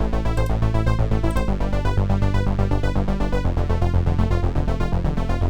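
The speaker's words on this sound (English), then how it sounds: "you can hear these elements here are giving the ARP feel, and then it's also got like a pulsing bass sound that comes from this" Pulsing arpeggiated bass synth preset called 'Set Me Free', steady rhythmic pulses with a repeating arp pattern on top, loud and continuous with no talk.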